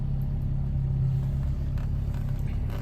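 A 1967 Alfa Romeo Giulia 1300 ti engine idles just above 1,000 rpm after a cold start, a steady low rumbling hum with even pulsing, close and unbroken throughout.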